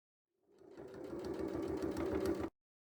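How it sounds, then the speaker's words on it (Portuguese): A sewing machine runs a short, steady burst, stitching along the edge of a fabric pot holder made from scraps. The whirring hum starts softly, stays even for about two seconds, then stops abruptly. "Daí eu vou fazer uma costurinha aqui nesta beiradinha e uma costurinha na outra beirada."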